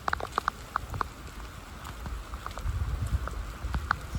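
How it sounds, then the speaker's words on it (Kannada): Heavy rain falling outdoors makes a steady hiss of downpour, with scattered sharp droplet taps on nearby surfaces and no voices. "ನೋಡಿದ್ರೆ ಜೋರಾಗಿ ಮಳೆ ಬರ್ತಾ ಇದೆ."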